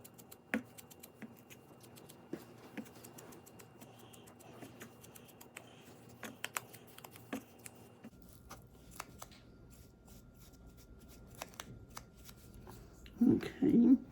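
Paper edges are distressed by hand for a junk journal collage, with quiet scattered scratching and rubbing scrapes and soft ticks at close range, then a brief louder rustle of handled paper at the end.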